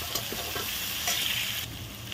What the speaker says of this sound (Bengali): অল্প একটু নুন দিয়ে পেঁয়াজ কুচিগুলি লাল করে ভেজে নেব।